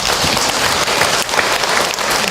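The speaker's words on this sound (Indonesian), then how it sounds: "Buat tepuk tangan untuk Ahilman ya" Dense, loud audience applause, a continuous wash of many hands clapping together during a religious lecture, with no talk over it.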